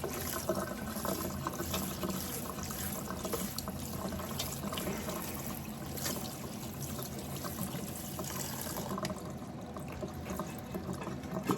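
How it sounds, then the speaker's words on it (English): Running tap water rinses salt off chopped vegetables for dill pickle relish in a sink, a steady, close hiss and splash that continues without pause and with no voices. "we're going to rinse the salt off"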